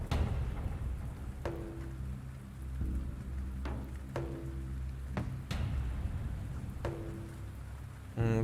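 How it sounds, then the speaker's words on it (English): Rain drums on the tin roofs of scrap-built buildings in a post-apocalyptic desert city-builder game: a soft, constant patter broken by several sharp, brief cracks and low rumbles, with no voices. "Rain tapping away at the roofs of all the new tin buildings."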